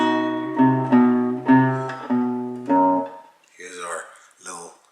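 A plucked flamenco guitar picks out a short alegrías melody of ringing notes, one after another, followed by a brief moment of someone speaking.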